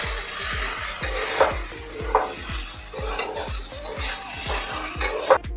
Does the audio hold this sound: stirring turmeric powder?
yes